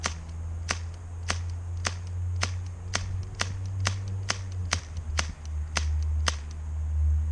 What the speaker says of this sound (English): So that's all the bullets, or all the BBs, that that thing can shoot in one cartridge.